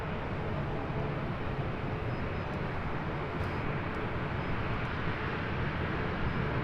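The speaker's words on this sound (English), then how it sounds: "Also see there in the distance the Sky Team livery on the Air France 777-300ER. Heading up here for a north side takeoff." A Boeing 777-300ER in Air France SkyTeam livery takes off from the north side at LAX, a steady, loud broadband jet roar that holds evenly throughout with no pauses.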